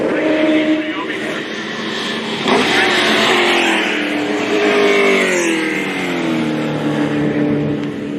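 Loud drift and race cars roar past close by on a circuit's front straight on their final lap, engines screaming and shifting pitch as they accelerate, with a voice talking over the noise.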